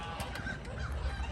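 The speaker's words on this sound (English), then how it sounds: "There's a lot of geese too." A flock of geese and ducks calling outdoors, a few faint honks and quacks at a distance over steady low background rumble.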